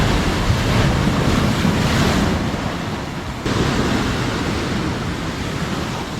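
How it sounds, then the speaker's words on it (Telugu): Sea waves crash against rocks at a hidden beach near Visakhapatnam, making a loud, continuous roaring wash mixed with heavy wind buffeting on the microphone. "అటు ఇటు రాక్, మధ్యలో సీ, మొత్తం వేవ్స్ లా కొట్టుకొని వస్తున్నాయి."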